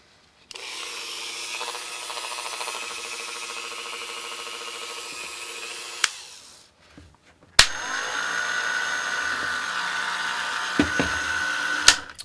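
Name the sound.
Dremel rotary tool running on low speed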